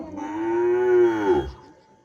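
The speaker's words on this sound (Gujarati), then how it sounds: "પેલી ગાયો બરાડે છે" A hungry cow lets out one long, drawn-out moo that rises and then fades, fairly loud and close, with no speech.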